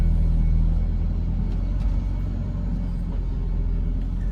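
A car engine idling and rumbling steadily while backing out, a loud, continuous low drone close by with no throttle blips.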